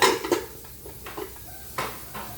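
Dishes, pots and cutlery clatter and clink in a kitchen sink, with several sharp knocks and scrapes spaced irregularly, close and fairly loud, no talking.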